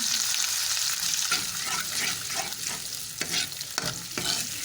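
Spice masala with garlic ginger paste fries and is stirred in a hot pan, giving a loud continuous sizzle broken by scraping stir strokes, with no talking.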